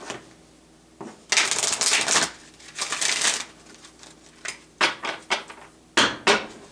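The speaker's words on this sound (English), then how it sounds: "One more shuffle." Tarot cards being shuffled in several quick riffling bursts, crisp and close, with brief pauses between them and no talking.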